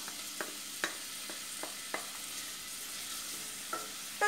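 Soft continuous sizzle of diced onions sautéing in olive oil, broken by several light clicks and taps of a utensil against the pan.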